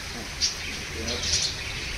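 Captive budgerigars kept in cages chirp in short, high bursts at a moderate distance over a steady background murmur, with a couple of distinct tweets standing out.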